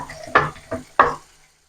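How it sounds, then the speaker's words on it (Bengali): Hot boiled beans and potatoes being mashed with a glass, producing three close, distinct squashing thuds with a soft scrape, and no voices. "আমি একটা গ্লাসে করেই মেখে নিচ্ছি।"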